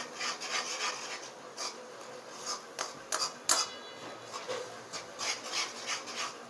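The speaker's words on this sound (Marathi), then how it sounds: "आता हे पाणी सुटलेलं आहे तर हे असं हलवत राहायचं आहे मिक्स करून घ्यायचं आहे" A thickening puran filling of cooked lentils stirred in a pan over a full flame, with repeated soft scraping and rasping strokes of a spoon against the pan in an uneven rhythm, close and moderately quiet, with no talking.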